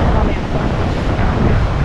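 Ocean surf rushes in a steady, loud wash, mixed with heavy wind buffeting the microphone.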